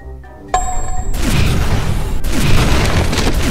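A monster in a video game fires a laser and sets off an explosion: a tonal zap with ringing harmonics, then a heavy rumbling boom that fills the rest of the clip with loud, sustained blast noise.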